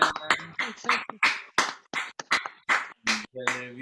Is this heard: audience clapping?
yes